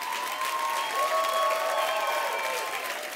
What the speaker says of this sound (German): Riesen Applaus für die beiden!